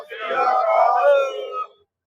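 A crowd roars the Sikh jaikara response in one long, loud collective shout lasting under two seconds, then cutting off into silence.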